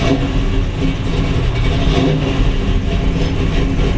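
A 1969 Chevy Camaro fitted with a 572 V8 runs steadily close by after starting, its deep, loud engine drone holding even throughout with slight swells in pitch.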